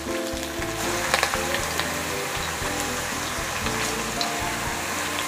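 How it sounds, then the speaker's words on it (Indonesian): Thinly sliced garlic sizzles steadily in a hot pan for Indonesian tempe orek, a continuous close crackling fry with faint stirring scrapes and no talk. "Saya tumis dulu bawang putih yang sudah dirajang atau diiris tipis"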